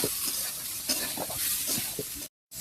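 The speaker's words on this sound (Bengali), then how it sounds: "এর মধ্যে দিয়ে দেবো আলু আর মটরটা কষিয়ে দেবো।" Potatoes and peas stir-fried with salt and turmeric for North Bengal matar aloo ghugni give off a loud, steady sizzle broken by repeated scraping stirs, then a brief cut to silence near the end.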